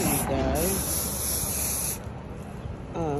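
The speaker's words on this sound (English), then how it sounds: "I'm gonna spray a little Scotch Guard on my bag" A hissing aerosol burst of Scotch Guard sprayed onto a Coach denim bag outdoors on a sunny Arizona day, a steady close spray lasting about two seconds, with a voice briefly talking at the start and end.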